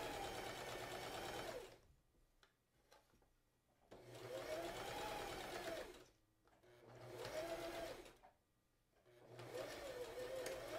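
Sewing machine running in three bursts while back stitching a curtain hem, a steady close whir with quiet pauses between runs and no talking.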